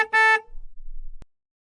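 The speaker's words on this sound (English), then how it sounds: "Cars make a honking with their horn." A car horn honks once, loud and close, with a short engine rumble trailing after it and a faint click at the end.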